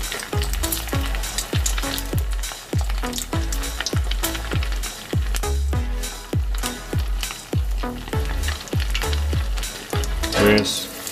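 Salmon croquettes deep frying in hot oil, a loud continuous bubbling sizzle punctuated by a regular series of sharp knocks from a spoon dropping batter into the pan, close up.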